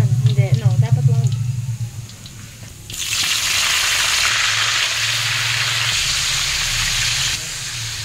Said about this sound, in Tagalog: Para ma-prito po muna siya ng kaunti.